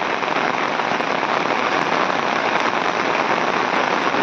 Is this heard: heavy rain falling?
yes